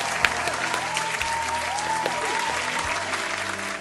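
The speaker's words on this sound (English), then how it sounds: "Can I have some applause?" A studio audience claps at a live show, steady moderate applause running throughout with a few sharper individual claps standing out.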